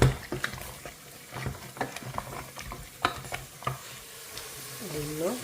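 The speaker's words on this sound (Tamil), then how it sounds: "இது கறி கொஞ்சம் பொரிக்கணும்." Meat curry frying in a pan with a little tomato, stirred with a utensil in several separate scrapes and clinks over a soft, low sizzle, close and moderately quiet.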